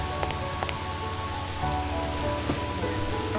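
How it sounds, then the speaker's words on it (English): Steady rain falling in the video game And Then There Were None, a constant dense patter with scattered sharper drops, loud and continuous throughout. "I might be in mid-transition in this rain right now."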